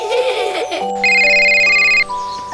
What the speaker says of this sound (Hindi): बोलो नेहा, किस लिए फोन लगाया है?